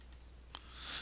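Two or three light, quick computer mouse clicks, close and faint, made while editing a table in AutoCAD, with no speech.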